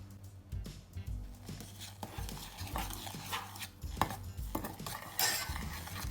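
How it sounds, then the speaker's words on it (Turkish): Sugar is stirred into swollen, soaked gelatin for homemade jelly candy, heard as quiet spoon clinks and scraping against a pot in uneven strokes, close and soft, with no speech. "Şimdi üstüne 2 yemek kaşığı şeker ekliyorum ve karıştırıyorum"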